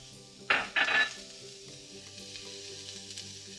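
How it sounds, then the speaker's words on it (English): Red peppers and green onions sauté in an oiled pan: a sharp clatter of utensil on pan, then a quiet steady sizzle continues. "we're gonna oil up our pan and saute our red peppers and our green onions"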